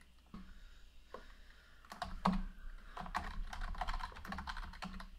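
A username is typed on a computer keyboard in quick, uneven bursts of light key clicks, close and fairly quiet, with a brief pause early on before the typing picks up and runs steadily.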